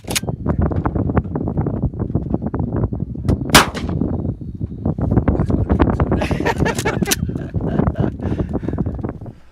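A shotgun, a Mossberg 500 or Winchester 1300 home defense model, fired from the hip outdoors, with sharp loud blasts spread through steady wind noise and scattered talk.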